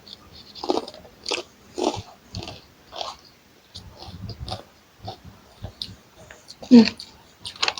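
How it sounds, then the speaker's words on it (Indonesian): Crunchy Indonesian kerupuk crackers being bitten and chewed during a meal of stir-fried water spinach, a series of close, sharp crunches in an irregular rhythm with brief pauses between bites. "Aku cobain kerupuknya"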